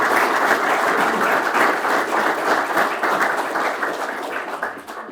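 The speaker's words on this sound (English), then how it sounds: "give a very warm round of applause for our two really good speakers today, Sharon Donnery and Kevin Callinan." Audience applause after the annual NERI Dónal Nevin Lecture, a sustained wash of many hands clapping at steady loudness that tapers off near the end, with faint voices underneath.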